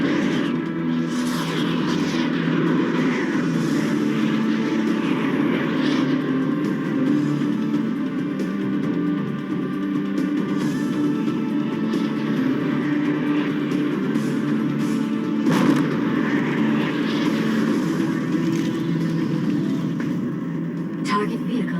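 Aircraft engine of a flying cruiser in a film serial, a steady droning hum running throughout at fairly loud level, with voices talking over it.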